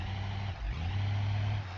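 Car reversing in the BeamNG driving game, a steady low engine drone with a slight dip and rise in revs, close and continuous with no talk.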